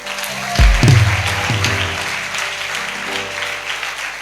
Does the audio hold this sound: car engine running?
no